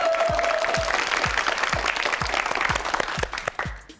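Studio audience applauding on a Korean TV word quiz show, steady clapping backed by a rhythmic series of low thumps, with the clapping thinning out and fading near the end.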